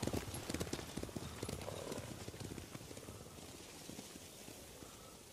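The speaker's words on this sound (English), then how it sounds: "Bastards scared off the horses." Samurai horses in Ghost of Tsushima gallop off, a rapid run of hoofbeats loudest at the start and gradually fading as they move away, with no voices over them.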